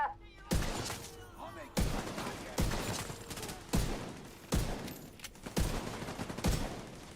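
In The Division 2, a fast-firing gun lets off six or seven loud, punchy bursts at a steady rhythm, each sharp crack trailing into a short decay, close up, with faint talk between shots.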